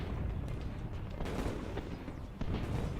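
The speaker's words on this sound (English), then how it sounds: "As exploding shells began to start fires in Friedland" Exploding artillery shells boom and rumble continuously in a battle scene, with dense low-frequency thuds and crackling blasts layered over one another.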